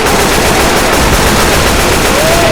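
Loud, relentless automatic gunfire from the zombie shooter Left 4 Dead pours out in a continuous rapid stream with no pauses from start to finish.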